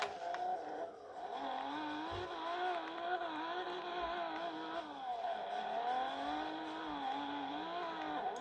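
A Rager XR car engine revs in a driving game, its droning tone rising and falling in repeated waves as the throttle opens and eases, steady and fairly close throughout.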